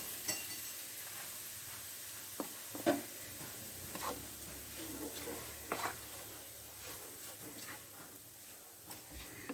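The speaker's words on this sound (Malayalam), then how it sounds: "നന്നായിട്ടും ഇളക്കി യോജിപ്പിക്കുക." Crushed beef being stirred and fried in a pan with spices, a soft steady sizzle broken by scattered scraping and clinking spoon strokes, fairly quiet and close.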